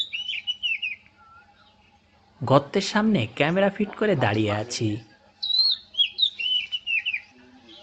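A green bee-eater calls near its earthen nest burrow beside a canal, giving repeated short, high trilling chirps at moderate distance; someone speaks over a stretch in the middle, and the calls resume after he stops.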